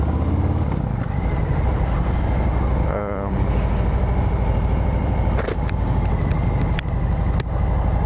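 A Harley-Davidson Street Bob 114 motorcycle engine rumbles steadily and close up throughout, with someone talking over the low running drone.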